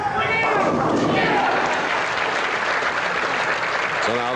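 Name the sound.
bowling fans applauding and cheering Art Trask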